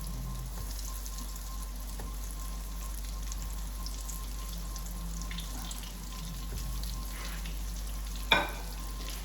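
Eggplant slices fry in a pan with a steady, even sizzle that holds throughout, ending with one sharp clink near the close.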